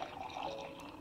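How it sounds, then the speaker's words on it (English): Water runs and splashes softly and continuously, close but faint, with a trickling, filling quality throughout the brief moment. "Can you hear the water sounds?"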